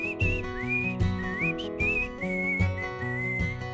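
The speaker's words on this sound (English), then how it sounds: "if you know how to whistle, this is a good time to do it." A person whistles a sliding, bluegrass-style melody, clear and close, in short rising and falling phrases over a steady rhythmic guitar accompaniment, with no talking.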